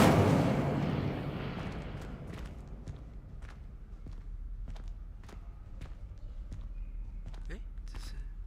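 A fire spell cast in the Hogwarts Legacy video game, opening with a loud whooshing, rumbling burst that fades into a string of sharp crackling pops and snaps, as a voice talks over it.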